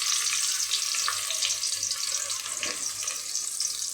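Chopped onion fries in a pan of oil for a fried-onion garnish, a steady, bright sizzle hissing continuously and up close with a few faint clinks.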